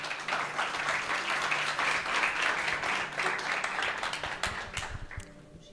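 A church congregation applauds steadily for several seconds, a dense wash of clapping that thins out and fades toward the end.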